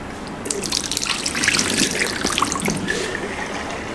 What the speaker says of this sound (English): This is working wash basin here.